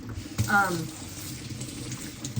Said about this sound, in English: And we're gonna pour it out.